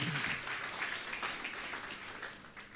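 A church congregation applauds during a sermon, a soft, continuous spread of many hands clapping that sounds somewhat distant and muffled for nearly three seconds.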